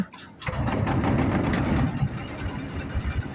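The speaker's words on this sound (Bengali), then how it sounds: "মাঝি ইঞ্জিনটি স্টার্ট করছে" A boatman starts a river trawler's engine, which catches after a brief pause and settles into a loud, close, rapid diesel chugging that stays steady before easing slightly.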